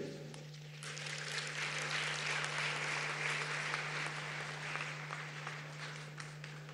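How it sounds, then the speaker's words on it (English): Sustained applause for President Bayo at the Africa Climate Summit in Nairobi, a broad wash of clapping that swells after a quiet start and holds steady over a constant low electrical hum. "Another round of applause for President Bayo."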